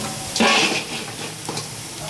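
A snack deep-frying in hot aniseed oil, giving a steady sizzle and hiss with a short louder burst of bubbling as it is stirred.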